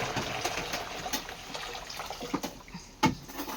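Hot water is poured from a pot into another container while making homemade fabric conditioner, a soft, close trickling and splashing with a few sharper clinks.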